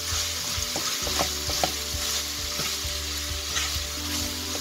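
Ground beef with garlic powder frying in a pan for a potato and meat pie, stirred with repeated scraping strokes over a loud, continuous close sizzle, with no voices.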